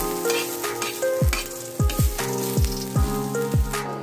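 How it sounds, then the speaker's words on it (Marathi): Chopped onion sizzles and fries steadily in a pan on the stove, a continuous bright crackle broken by repeated stirring scrapes and knocks at a regular pace, close and fairly loud, for a Marathi-style prawn and potato curry. "कांद्याला गोल्डन कलर येऊपर्यंत आपल्याला भाजत राहायचं आहे।"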